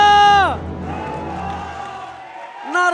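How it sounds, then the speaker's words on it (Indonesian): A crowd at the MPL Arena esports venue cheers and claps during an ONIC vs RRQ match. The roar swells right after a sustained tone cuts off, then holds as steady broadband crowd noise before tones return at the end. "mana tepuk tangannya?"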